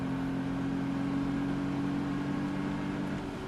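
An Audi S3 accelerates on the Anneau du Rhin race circuit, heard as a faint, steady engine drone with a constant tone from inside the car, and no one talking.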